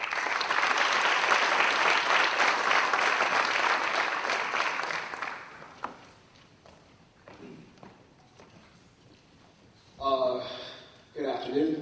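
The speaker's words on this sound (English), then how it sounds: "I'd like to give them a round of applause." An audience gives a round of applause at a business event, the clapping steady and full for about five seconds before thinning into scattered claps, with a voice starting to speak near the end.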